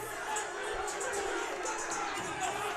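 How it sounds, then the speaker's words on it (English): Crowd at a boys' high school hockey game murmuring and stirring after a penalty call, a faint distant roar of chatter and scattered shouts under an announcer's voice. "And the crowd's getting into it here"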